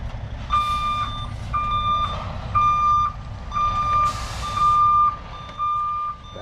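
Truck reversing on a driveway job site, its backup alarm sounding six or so evenly spaced loud beeps over a low rumbling engine, with no talk.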